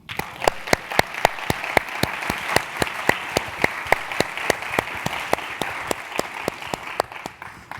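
Audience applause greets PG&E CEO Patti Poppe at a business, government and society forum, a steady wash of many hands clapping with sharp individual claps standing out, sustained for several seconds at an even level.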